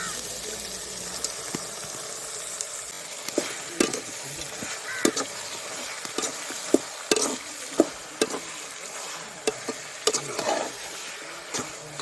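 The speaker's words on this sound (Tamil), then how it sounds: "கறி வதங்கிக்கிட்டு இருக்கு நல்லா" Country chicken curry pieces sauté in a pan, with a spoon scraping and stirring in repeated irregular strokes over a steady close sizzle.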